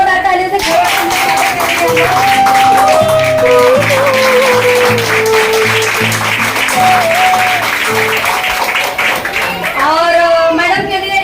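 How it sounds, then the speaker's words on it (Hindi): An audience at a sales training session claps loudly to welcome the trainer. The rhythmic clapping runs over music with a melodic voice line, and a voice rises near the end. "उनका जोरदार ताली सुनकर हम लोग स्वागत करेंगे। जोरदार ताली से"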